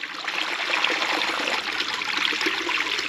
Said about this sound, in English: water's just pouring over the side.